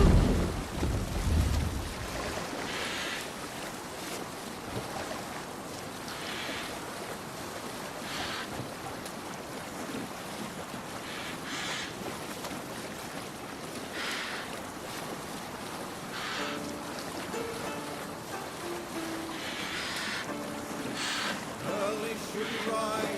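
A Viking longship sails across open water in Assassin's Creed Valhalla, with waves washing and wind rushing steadily throughout and a louder splash at the start.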